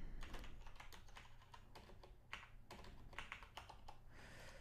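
Someone types PHP code on a computer keyboard, producing quick, quiet, uneven clusters of key clicks against a faint background hum, with no talking.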